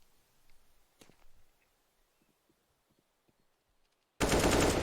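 A sudden loud burst of rapid automatic gunfire from a Counter-Strike spray on Inferno comes near the end, after quiet scattered game sounds and soft clicks.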